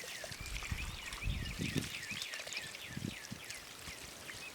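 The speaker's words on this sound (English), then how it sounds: "We're waiting to see if water comes out." Rainwater pours and trickles out of a collection tank outlet in a steady, continuous watery stream, with faint bird-like chirps above and low bumps or gurgles in the background; no one speaks.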